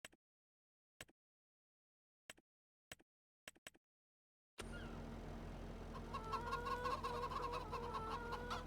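Chickens on a farm in the Farming Simulator 25 video game give short, sparse clucks at first, then a steady bed of farm ambience comes in with repeated clucking and calls over it.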